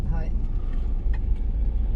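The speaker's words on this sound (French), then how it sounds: "Attention, il y a une voiture là." A car rolling close by on a coastal road in Morocco, a low engine and tyre rumble held steady for about two seconds, with a voice talking over it.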